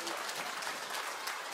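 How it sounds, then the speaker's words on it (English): A church congregation at a live New Year's Eve service claps hands together in a dense, steady patter, moderately distant and fairly quiet, with no voices. "I give God a hand clap."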